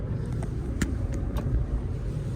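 Steady interior road noise from a car on a relaxed drive: a low rumbling drone with faint ticks and small bumps, constant and close throughout.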